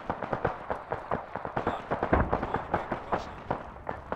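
Mortar shell explosions in a video game, a rapid, fairly distant series of sharp booms and cracks in an irregular rhythm, some overlapping.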